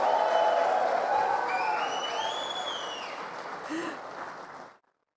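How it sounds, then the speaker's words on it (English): Audience at the Manipal Champions League 2024 jersey launch cheering and applauding the champions, a sustained roomful of clapping and voices that holds steady and then cuts off abruptly. "Can we cheer for all of you champions, the Manipal Champions League?"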